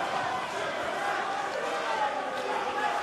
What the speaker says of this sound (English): The chants of the crowd go up.